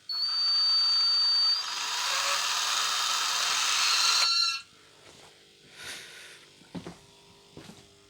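A power drill whirs loudly for about four seconds with a slight pitch change, then stops, followed by a few clunks and handling knocks.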